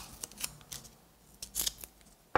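Paper or electrical tape cut to length while wrapping the wire end of a handmade marionette, heard as a few short, crisp snips and tearing rasps spaced apart, close and fairly quiet, ending in a sharp click.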